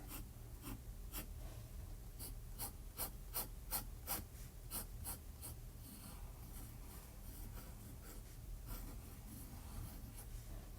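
A Kaweco Perkeo fountain pen scratches across paper in quick, close strokes, a string of crisp short scrapes that thin out later, heard alone in a quiet room.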